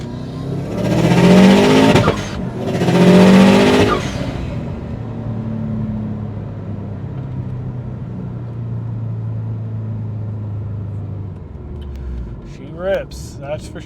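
A stock-motor Subaru STI with an aftermarket turbo running 24 pounds of boost pulls hard, its engine note droning steadily under loud talking from people inside the car, ending with a short sharp squeal near the end.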